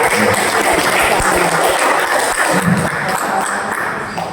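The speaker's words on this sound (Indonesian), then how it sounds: "Tepuk tangan dulu" A school audience claps steadily for several seconds, a dense even wash of applause that fades slightly at the end, with no one speaking.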